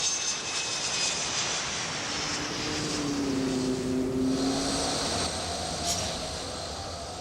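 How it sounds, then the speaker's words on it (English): Airplane engine on a flight bound for Oslo, Norway: a loud, steady roar that holds for several seconds, with a rising and falling tonal whine in the middle, and no voices. "Another aeroplane."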